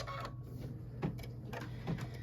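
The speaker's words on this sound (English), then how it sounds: "gonna stitch out the placement line." Embroidery machine stitching a yellow placement line on a Kimberbell pillow panel, a quiet steady mechanical hum broken by soft rhythmic ticking and clicking of the needle at close range.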